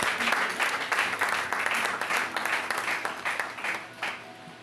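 A church congregation applauds for Jesus during a service, with steady full-room clapping that carries on throughout and swells and dips before tapering slightly at the end.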